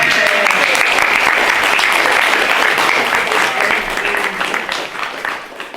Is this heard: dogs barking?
no